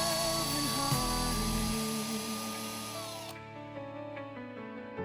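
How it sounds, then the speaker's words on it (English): A power drill bores into a plastic toothbrush handle to fit a steel crochet hook handle, whining loudly and steadily for about three seconds before winding down to a fading hum. "Drilling can help to have a clean finish."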